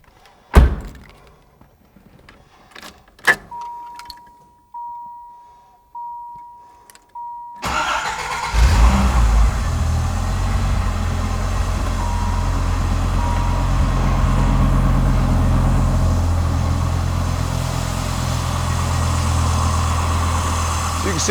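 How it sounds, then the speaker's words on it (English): Under the raised hood of a low-mileage 1992 Dodge Viper RT/10, a few thunks and a quiet tone give way to a cold start, then a loud, steady V10 idle continuing nearby. "So now we'll do a cold start."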